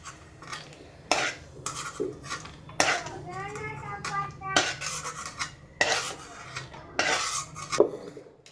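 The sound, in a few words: roasted dry fruits scooped from pan into a bowl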